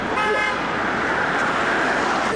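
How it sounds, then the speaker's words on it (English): A car horn toots on a busy city street near the Empire State Building, a short blare over the constant roar of passing traffic close by. "You may have caught that car honking at me."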